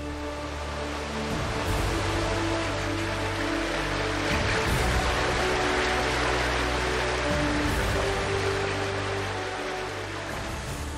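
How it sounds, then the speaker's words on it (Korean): Rushing mountain stream pouring between rocks among dense summer greenery, a steady broadband wash of water that stays loud and continuous throughout, with a low hum running underneath. "물소리가 아주 시원합니다."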